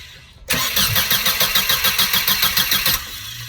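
Starter motor on a 2001 Mercedes SLK 170 cranks in a rapid, even chugging rhythm for about two and a half seconds, loud and close, then the engine catches and settles into a steady idle.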